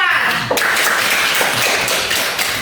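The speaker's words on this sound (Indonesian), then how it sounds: "tepuk tangan untuk kelompok 4" A group claps loudly and steadily in a continuous burst of applause, close and energetic throughout.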